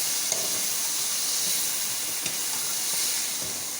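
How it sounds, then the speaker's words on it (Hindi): Chicken and chopped tomato cubes frying in a pan for chicken biryani, a steady, moderately loud hissing sizzle with a few faint stirring taps, no voices. "अब चिकन और टमाटर को हम थोड़ा सा भून लेंगे।"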